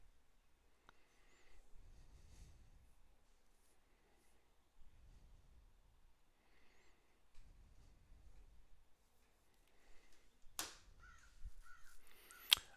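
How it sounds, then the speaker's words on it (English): Crows caw faintly outside open windows in a few short, distant bursts spaced several seconds apart within a quiet room. "You hear crows? Yeah, I got my windows open."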